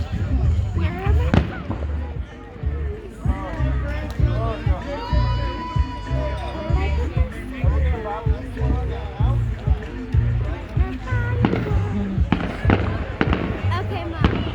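Fireworks at a Fourth of July celebration burst repeatedly in an irregular run of loud bangs and crackles, with people talking and calling out excitedly between and over the explosions.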